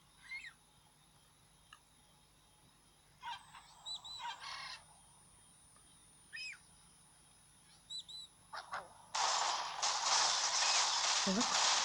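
Cartoon bird squawks and chirps from the Angry Birds Rio video game, scattered short calls over quiet game audio, ending in a loud burst of noisy effects.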